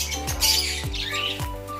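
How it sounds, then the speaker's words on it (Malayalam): African lovebirds squawk in a backyard aviary, a few sharp shrill cries in quick succession with busy chatter between them, close and fairly loud. "ഇതാണ്ടോ, അവരാണ് ആഫ്രിക്കൻ ലവ് ബേർഡ്സ്."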